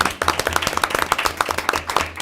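Audience at a city council meeting clapping, a brief dense burst of many hands applauding together, fairly close and lively with no talk over it.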